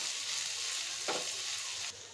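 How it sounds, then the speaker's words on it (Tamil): Mutton pepper fry sizzling steadily in a pan while being stirred, with a brief louder scraping stir midway; a continuous close frying hiss with no talking. "இது எல்லாத்தையும் நல்லா கலந்து விட்டுக்கோங்க"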